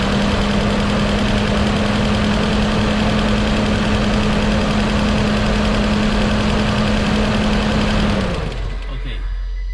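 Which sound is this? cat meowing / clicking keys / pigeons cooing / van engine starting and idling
van engine starting and idling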